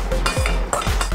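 A spoon stirs a pasta sauce of sausage and olives in a pan, with a brief scrape and clink over a close, steady sizzle.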